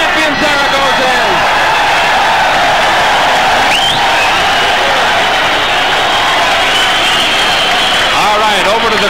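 At a boxing match, the crowd roars and cheers for Daniel Zaragoza in a loud, continuous wash of noise, while a commentator talks over it throughout.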